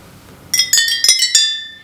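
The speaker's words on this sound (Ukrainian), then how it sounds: "Цей музичний інструмент має назву склофон." A homemade glass-bottle xylophone, its bottles filled with coloured water, rings out five bright, clear struck notes in a quick sequence, each chime sustaining and overlapping before fading away.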